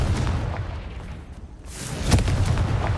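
Confringo fire-spell blasts in Hogwarts Legacy, booming explosive bursts with crackling impacts, one louder burst near the end over continuous game rumble.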